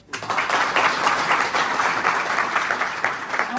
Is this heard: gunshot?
no